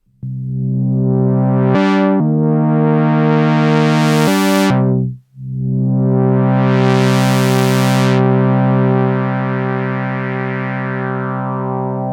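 A dry Moog Prodigy analog synthesizer drone with buzzy, harmonic-rich tones and sweeping filter changes, briefly cut off midway, with no echo or reverb tail.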